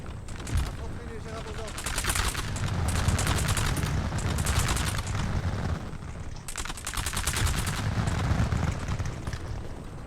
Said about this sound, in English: now they're taking volley fire